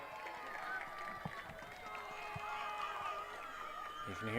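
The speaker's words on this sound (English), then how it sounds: "You can hear the crowd starting to get into it." A crowd at a U13 girls' soccer final between Toronto Cherry Beach and London Alliance murmurs and cheers in a wash of overlapping voices that swell toward the end, with the odd whistle-like tone and nearby chatter.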